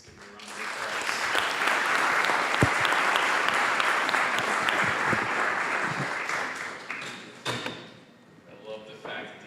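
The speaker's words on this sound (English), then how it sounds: "Let's give them a round of applause." Audience applause after a student business pitch at a challenge event, swelling quickly into a full, sustained burst of clapping from a sizable crowd, then tapering off near the end as a voice begins to speak.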